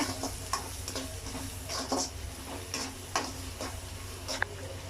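Fish curry mixture stirred in a pan, with soft scraping strokes repeating at a loose rhythm over a steady low background, close and moderately quiet, with no talking.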